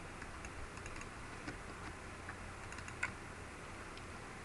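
Soft, sparse tapping of keys on a computer keyboard while entering text during a Minecraft install, quiet irregular clicks with one slightly sharper tap, close by and faint over a low room hiss.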